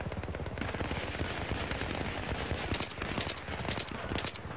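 Dense rapid automatic gunfire in Battlefield 3 multiplayer, a continuous rattling barrage of shots with crackling impacts, loud and sustained throughout with no clear talk.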